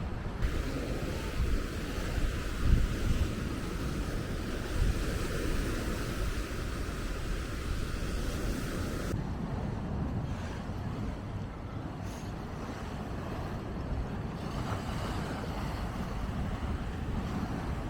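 Steady roar of Sea of Marmara surf washing ashore at Caddebostan beach, Istanbul, continuous and broadband, with wind buffeting the microphone throughout.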